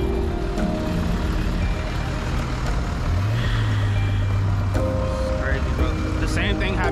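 Repeated electronic beeping from a reversing tow truck amid engine rumble and traffic, with people talking nearby over the noise.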